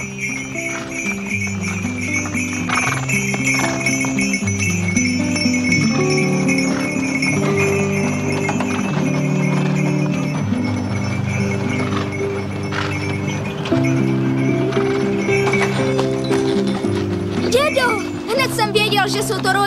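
Horse hooves clip-clop steadily in a Christmas story set in Tyrol, the even rhythmic steps running under music with a faint bell-like jingle.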